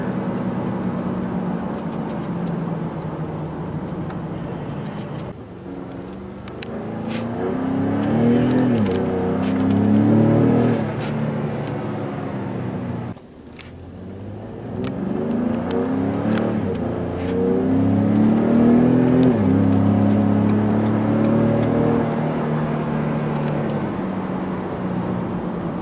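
A 2017 Ford F-150 Raptor pickup's engine accelerates hard on a test drive, rising revs through gear changes with a brief dip mid-run, heard from inside the cab, loud and steady with no talk.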